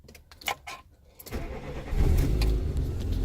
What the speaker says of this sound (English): So I'm gonna start my car